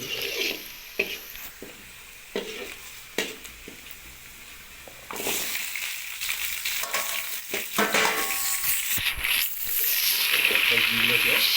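Vegetables fry with browned onions while being stirred for a carrot dish, soft scraping and clinks at first, then a louder, steady sizzle swells toward the end as more goes into the pan.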